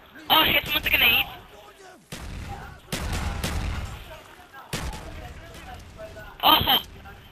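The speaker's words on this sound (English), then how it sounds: "Grenades are flying!" Grenade blasts and gunfire in the Black Ops multiplayer game burst out in several loud, separate bangs over a few seconds, with players talking and shouting between them.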